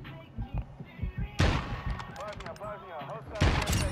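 Wall-bang gunfire in a multiplayer shooter: a rapid run of low thumping shots followed by a loud burst, then another hard volley at the end, with players talking between the shots.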